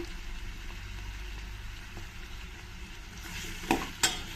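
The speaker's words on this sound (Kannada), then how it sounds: "ಒಂದು ಟೂ ಮಿನಿಟ್ಸ್ ಇದನ್ನೆಲ್ಲ ಸ್ವಲ್ಪ ಚೆನ್ನಾಗಿ ಫ್ರೈ ಮಾಡ್ಕೊಳ್ಳೋಣ" Potatoes fry in a spice tempering in a pan with a soft, continuous sizzle and faint stirring. A couple of sharp utensil clinks come near the end.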